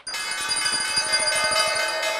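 A bright synthetic notification bell chime rings out, steady and clear with a quick fluttering shimmer, on its own without any talk.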